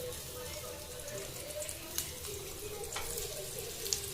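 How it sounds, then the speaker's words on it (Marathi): Raw banana slices frying in hot oil for kacchi keli bhaji, a steady soft sizzle with a few small pops throughout, fairly low in level and with no talk over it. "आता हे तेल आपलं तापलेलं आहे, त्यात आपण हे केळी असे सोडायचे"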